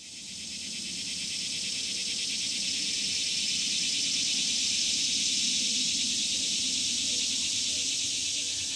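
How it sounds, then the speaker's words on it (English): Annual cicadas buzz steadily in trees, a loud, continuous high-pitched drone that holds for the whole stretch with no pauses, joined by a faint low rumble beneath. "What you're hearing in the trees right now are what we call the annual cicadas."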